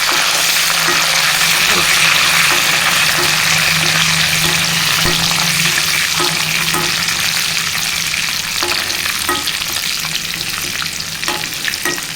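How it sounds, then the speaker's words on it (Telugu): Curry leaves for a red chili chutney fry in hot oil in a pan, producing a loud, dense, steady sizzle with faint periodic clicks of stirring throughout. "ఇప్పుడు కరివేపాకు వేస్తున్నానండి"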